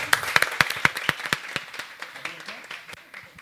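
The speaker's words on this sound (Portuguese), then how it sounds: "Vamos aplaudir" Applause in a youth city council session after a unanimous vote, sharp distinct claps at first from a few people, thinning into a sparser, quieter patter as it fades, with some voices underneath.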